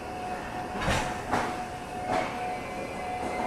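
Train at the Ambala Cantt railway station platform, a busy daily express: steady rumble with a sustained tone and several periodic clattering bursts, nearby, no voices.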